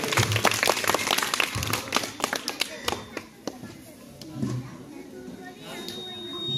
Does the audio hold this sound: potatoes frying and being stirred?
no